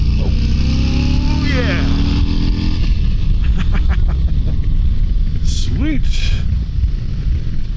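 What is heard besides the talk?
Harley-Davidson Road Glide Special motorcycle being ridden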